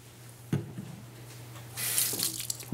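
Cool tap water runs faintly over an alginate dental impression in a dental office, with a soft splash near the start and a steadier hiss of flowing water toward the end.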